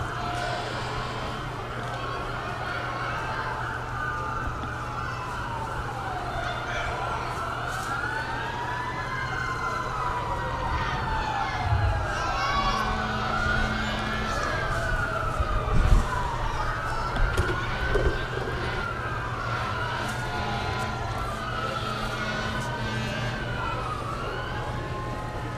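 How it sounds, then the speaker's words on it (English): Several police sirens wail and sweep up and down over a steady low drone, with occasional horn blasts and whistles as parade vehicles pass by at a farm and city days celebration. "Let you guys listen to all the whistles and horns and sirens as they come through."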